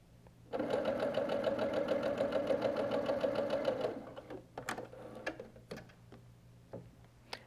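A sewing machine runs a quilt seam on a four-patch coaster in one steady, fast mechanical burst of about three and a half seconds. It then stops, leaving faint clicks and handling noises from the fabric and pins.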